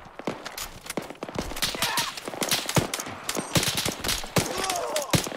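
Dense, rapid gunfire crackles in the military shooter game Arma 3, with close shots and bursts following one another almost without a break, and voices talking underneath.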